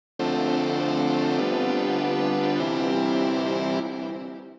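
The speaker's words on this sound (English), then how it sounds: "if I loop that split millisecond, I get a constant tone" A split-millisecond sample looped into a sustained, buzzy constant tone with EQ, compression and reverb added, steady and loud for about four seconds before a short fade.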